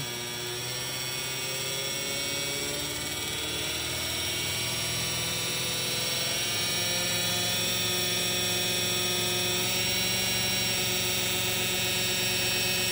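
A 1970 Pontiac Ram Air III V8 with its original distributor holds steady at 2,800 RPM, giving a continuous, even droning hum with layered tones and no voices.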